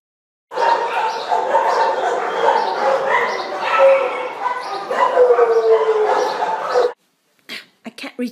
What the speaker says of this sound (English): I think my dog thinks she's Chewbacca.